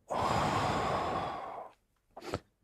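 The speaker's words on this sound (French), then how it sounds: "Alors une respiration." A single deep breath is drawn in audibly and then let out in a long, close sigh lasting over a second, followed after a short pause by a brief second breath.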